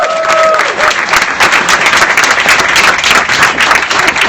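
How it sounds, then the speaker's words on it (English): A studio audience at a live talk show applauds hard, giving a loud, steady clatter of many hands clapping together for the full stretch, with a few cheers mixed in. "I want the loudest clap for that man"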